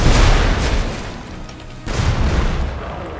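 Rumbling, booming blasts from death bomb spells in Magicka roll out in two heavy surges with a short lull between, loud and close, with no speech over them.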